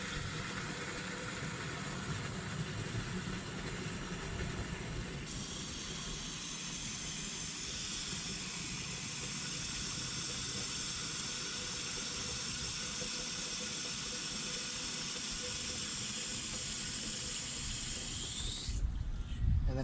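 Water runs into a lawn fertilizer sprayer tank, filling it to about 4.5 gallons, with a steady close hiss and rush that carries on unbroken and shifts slightly near the end as the tank fills.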